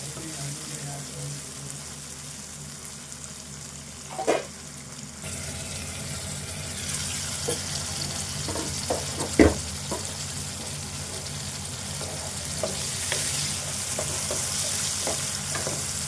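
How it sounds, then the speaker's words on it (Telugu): Onion and tomato fry in a pan for a goat liver curry, a constant soft sizzle broken by a few scraping stirs and one sharper clank, close up with no talk. "ఉల్లిపాయ టమాటా మెత్తగా వేగాలి"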